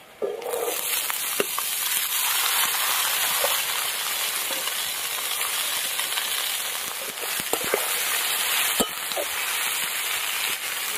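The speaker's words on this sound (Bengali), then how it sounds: "দিয়ে ভালো করে কিন্তু এবার এই সবজিগুলো ভেজে নিতে হবে" Carrots, beans, peas, capsicum and chilli fry in a pan for egg fried rice, a loud close hiss with sharp crackles and occasional clatters, with no voices.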